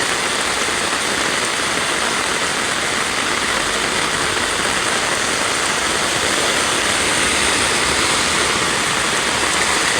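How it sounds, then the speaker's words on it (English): Floodwater flows across a road in Jamaica during Tropical Storm Elsa, making a loud, steady broadband rush of moving water that continues without a break, with no voices. "Road full of water."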